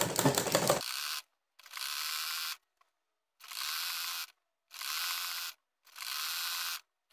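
Sewing machine stitching pieces of a salwar, running in five separate bursts of steady mechanical whirring with short pauses between them, close and fairly loud, with no talking.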